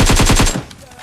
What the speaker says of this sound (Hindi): आगे जाते हैं तो गन फाइट की आवाज़ आती है